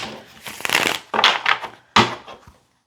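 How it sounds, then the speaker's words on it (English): A deck of tarot cards is shuffled by hand in three or four quick, crisp riffling bursts up close, each ending abruptly, with no voice heard. "Let me give this a quick shuffle."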